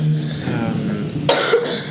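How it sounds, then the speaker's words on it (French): A person who is a little ill coughs up close, with one sharp loud cough bursting out after a stretch of low throat noise and murmuring voice. "Oui, t'arrêtes pas de tousser."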